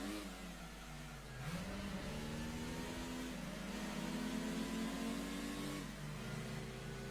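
A race car engine in Gran Turismo 2, an SLK Trophy event, drones steadily at mid pitch, rising through revs and dropping sharply at gear changes, close and continuous with no voices.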